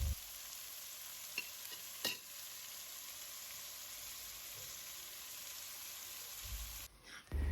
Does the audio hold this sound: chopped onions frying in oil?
yes